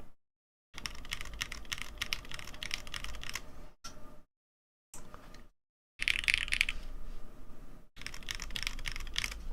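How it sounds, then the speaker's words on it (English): Typing on a silent enthusiast-grade keyboard with a scratchy feel, a close, rapid patter of muted keystrokes in bursts separated by short pauses. "Silent enthusiast version of a keyboard."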